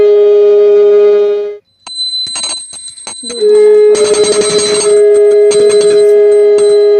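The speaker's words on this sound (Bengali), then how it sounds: "আর এক হাতে ঘন্টা ভালো করে বাজাতে পারছিলাম না" A hand bell rung during a Hindu puja at home, loud and close, with sustained metallic ringing, a brief pause, then uneven clanging that settles back into a steady ring.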